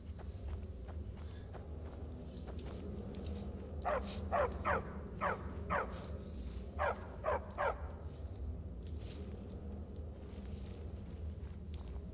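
A companion dog in Skyrim lets out a rhythmic string of short barks and yips in two bursts, moderately close, over a steady low ambient rumble with faint clopping.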